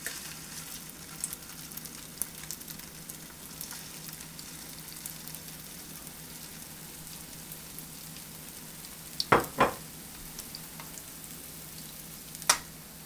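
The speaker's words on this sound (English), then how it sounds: "now while our meatballs are cooking" Meatballs fry in a pan for spaghetti and meatballs, giving a soft, steady sizzle with faint crackle. A couple of brief utensil clatters stand out near the end, and there is no talk.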